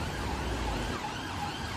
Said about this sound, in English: Here's some sirens coming.